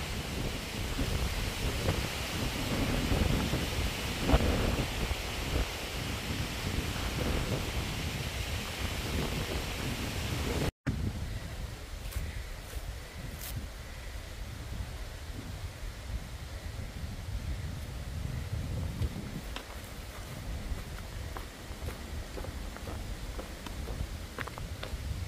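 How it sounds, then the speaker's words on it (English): Strong wind roars steadily across the microphone high above the James River on the Appalachian Trail, a dense broadband rush with gusty buffeting, briefly cut by a short dropout midway, no voices. "Wow, is it windy?"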